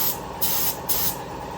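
A spray gun lays down Eastwood 2K urethane primer surfacer on a 1985 Jeep CJ7 in two close, hissing bursts over a low background hum, with no voices.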